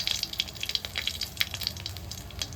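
Cumin seeds and a dried chili sizzle in hot oil left over from frying potatoes. The crackle is close and busy, with sharp popping spatters over a steady hiss.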